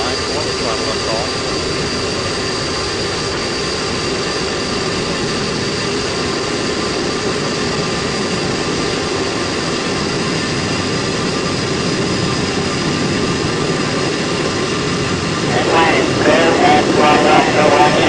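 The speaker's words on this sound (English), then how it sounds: "Engines now revving up, standing by for the throttle up call." Space Shuttle Atlantis main engines roar during launch as a steady, dense broadband rumble with a high whine, heard from inside the cockpit; a voice speaks faintly over it near the end.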